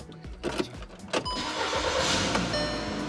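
A car engine cranks and catches after failing to start the day before, the starter whirring for about a second before the motor settles into a steady, close, fairly loud run with no talking.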